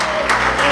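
Congregation at a church service clapping together in a brief, steady burst of applause.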